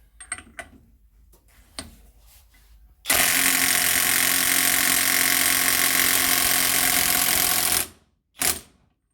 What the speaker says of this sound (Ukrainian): спробуємо гайковертом відкрутити гайку